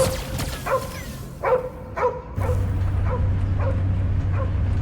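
Cosmo, the dog in the Guardians of the Galaxy video game, gives a run of short yips and whimpering barks that fade and grow fainter, then a low steady rumble takes over underneath.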